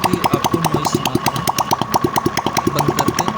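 A motorcycle engine runs close by with a fast, even mechanical chugging and ticking, steady and fairly loud, while its oil flow to the head is being checked.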